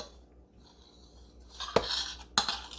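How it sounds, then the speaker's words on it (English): A knife cuts freshly microwaved keto bread in half on a kitchen surface. It is quiet, with faint scraping followed by two light metallic clinks near the end. "I like to just take a knife"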